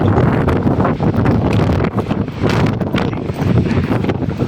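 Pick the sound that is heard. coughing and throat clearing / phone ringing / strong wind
strong wind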